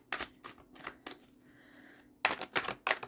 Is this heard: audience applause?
no